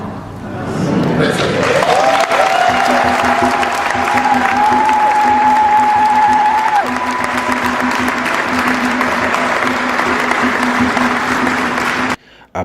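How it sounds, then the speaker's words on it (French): A large crowd of churchgoers applauding after Mass, loud sustained clapping that swells in and carries on for about ten seconds before cutting off, with a steady tone and murmuring voices mixed in. "la grande foule des fidèles a tenu à ovationner, saluer, applaudir et encourager"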